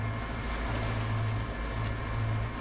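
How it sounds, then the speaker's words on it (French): A sailboat's inboard engine runs steadily at 1800 rpm while motoring in light wind and a small swell, giving a constant low hum with faint wind and water wash around it. "Le moteur est à 1800 tours."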